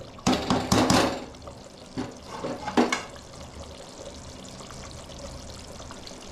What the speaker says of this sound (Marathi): आता आम्ही अंडी टाकून घेतो याच्यामध्ये